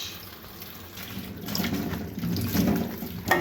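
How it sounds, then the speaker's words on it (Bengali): Fresh okra is rinsed under a running tap, a soft steady splashing of water that swells louder midway and ends with a brief sharper splash, close and fairly quiet. "ভেন্ডি কাটার আগে আমরা ধুয়ে নিই ফ্রেশ করে।"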